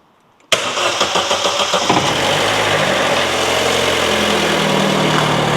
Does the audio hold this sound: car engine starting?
yes